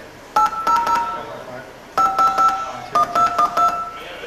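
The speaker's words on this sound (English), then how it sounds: "Let's dial" A telephone number is being dialed, sending three quick bursts of touch-tone beeps, each a short run of crisp dual-tone pulses separated by pauses, clear over a quiet room background.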